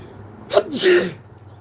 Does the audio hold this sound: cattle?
no